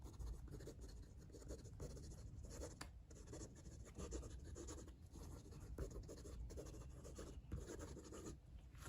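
A Waterman Carene fountain pen writes quickly across paper, a steady soft scratching with flowing strokes and brief lifts of the nib, close and quiet with no talking.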